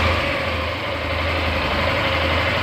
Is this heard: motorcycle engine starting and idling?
yes